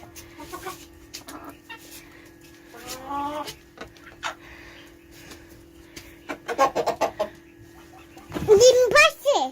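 Desi hens on a farm give scattered clucks and short squawks, nearby and intermittent, mixed with people talking.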